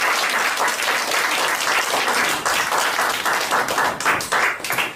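Church congregation clapping at the close of a sermon during a church founding service, loud, dense applause with rhythmic pulses running throughout.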